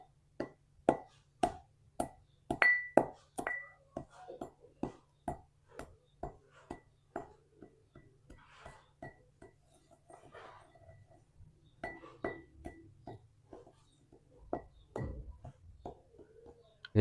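A stone pestle grinds mercury with nitric acid and caustic soda in a stone mortar, making a steady run of faint, sharp clinks and knocks, about two per second, with no talk.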